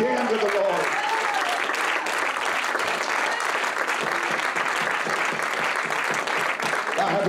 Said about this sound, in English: Can we clap our hands again to the Lord?